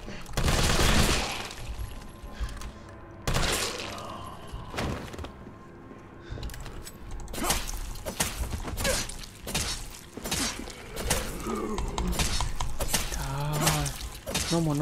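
Rapid gunfire rattles through a police station shootout in the Resident Evil 3 Remake video game, loud bursts and single shots with thuds and crashes crowding together, dense and close.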